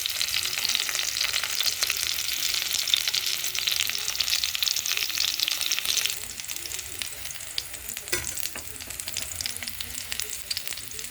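Fish for ginataang isda fries in a pan, a dense continuous sizzle of hot oil up close that eases slightly partway through, with a few faint stirring scrapes.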